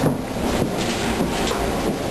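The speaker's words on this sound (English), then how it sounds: "So we're on the train, on the way to Boston." Steady rumble of a moving commuter train bound for Boston, heard from inside the car, with continuous low running noise, faint rhythmic swells and some wind buffeting the microphone.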